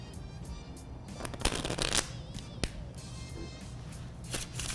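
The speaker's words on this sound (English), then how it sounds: "To shuffle the deck." A deck of playing cards shuffled by hand during a close-up card trick, crisp riffling bursts and sharp snaps at moderate loudness over faint background noise.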